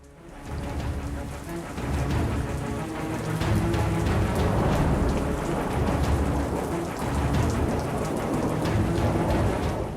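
Steady heavy rain pours down on an open rural farmland scene where heaped harvested paddy lies exposed, with deep thunder rumbling beneath the constant wash of water, loud and continuous throughout.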